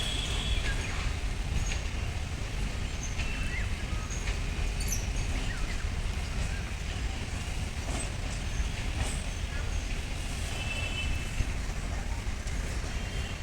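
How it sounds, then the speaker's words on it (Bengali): A moving passenger train at Ranaghat switching tracks, heard from on board as a continuous loud rumble and roar of wheels on rail, with faint clatter and occasional squeals over the steady noise. "দেখুন ট্র্যাক চেঞ্জ করছে।"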